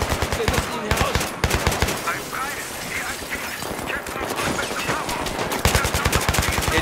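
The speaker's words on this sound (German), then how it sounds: "Die können aber schießen, du." Rapid automatic gunfire from the video game Battlefield 3 crackles in dense, rhythmic bursts, loud and close, with a short lull in the middle before heavy firing resumes.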